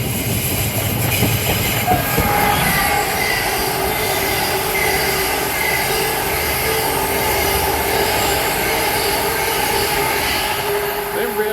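A Class 730 electric train passes through Bushey station on the West Coast Main Line, with sustained loud rolling and wheel squeal that holds steady from start to finish as the train runs by close at hand.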